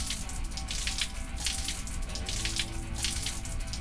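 Water from an off-grid hot shower in the woods pours steadily and splashes at close range, a continuous hissing stream with uneven spattering, without any talking.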